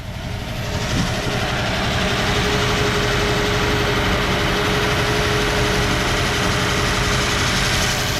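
A 1959 Plymouth Savoy engine runs on its own after the jumper is disconnected, a steady, loud idle with an even low rumble and a faint constant whine that holds without change the whole time.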